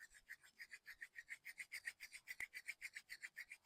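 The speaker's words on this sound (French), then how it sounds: "Frotte les deux mains l'une contre l'autre pour créer de la chaleur." Two palms rub briskly together to make warmth, a soft rhythmic rasping of about twenty quick even strokes, close and quiet with no talking.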